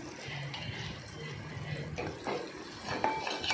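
Tomatoes with salt are stirred in a cooking pot, with a spoon scraping and clinking against the metal in uneven strokes over a soft, wet simmer.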